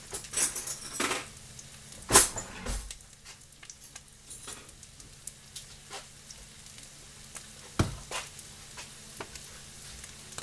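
Chicken patties fry in a pan with a soft, crackly sizzle, interrupted by clinks and scrapes of a utensil against the pan, one sharp knock standing out early.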